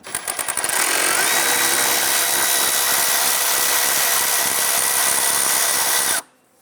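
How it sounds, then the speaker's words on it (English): A power ratchet or impact tool loosens and removes a nut on the exhaust manifold of a 1999–2004 Jeep Grand Cherokee 4.7L V8. It makes a loud, continuous close-up whir that starts with a few stutters and stops abruptly after about six seconds. "Using your 10mm, go ahead, loosen and remove that nut."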